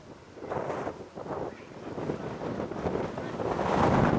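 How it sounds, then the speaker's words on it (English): Gusty wind buffets the microphone outdoors at a youth U-15 baseball game at the Plex, a rough, surging rumble that grows stronger toward the end. "it is blustery out here"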